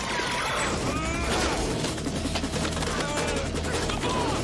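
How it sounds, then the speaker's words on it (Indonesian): Dense machine gun fire sweeps a courtroom in the crime film Stone, bursts of rapid shots mixed with crashing and shattering debris, loud and continuous throughout. "Cooper menembakkan senjata mesinnya ke setiap orang yang ada di dalam ruangan itu"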